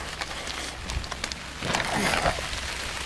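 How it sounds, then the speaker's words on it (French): Rain patters steadily on surfaces outdoors, a close crackling hiss of scattered drops that swells a little louder partway through, with no talking. "C'est la pluie."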